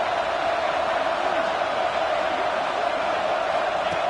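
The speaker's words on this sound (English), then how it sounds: "this home crowd is fired up and ready to make a difference" A home crowd roars in the College Football 26 video game, a dense, steady wall of cheering that stays loud and unbroken from start to finish.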